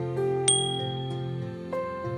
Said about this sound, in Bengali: এই দেখো, এটা একটা ঘন্টা।